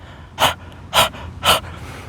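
Breath of fire exercise from a kundalini kriya class, three forceful, evenly spaced nasal exhales about half a second apart, close and loud with no talking.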